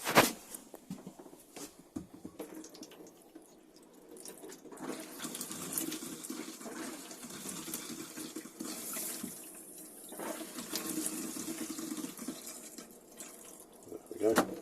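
Water runs steadily from a tap in an Elddis Crusader Cyclone caravan, a soft continuous splashing hiss with a few clicks and handling knocks at the start and end.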